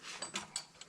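A wrench turns on a part of a Berkey water filter cartridge. Several faint, brief metallic clicks and ratcheting scrapes come in quick succession, close by and quiet.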